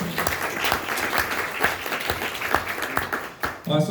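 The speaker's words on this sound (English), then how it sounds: "give them a real big round of applause" A crowd at a live marketing talk breaks into sustained applause, dense overlapping clapping with a few louder individual claps, fading near the end as a voice begins to speak.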